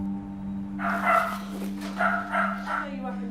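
Quarantined puppies seized from smugglers yip and bark at Dogs Trust kennels in short clustered bursts over a steady electrical hum, while a voice speaks over them.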